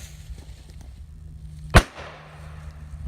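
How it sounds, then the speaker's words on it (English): A standard M80 firecracker goes off in a single sharp, loud bang, followed by a short rumbling echo over quiet background. "this is basically your standard M80"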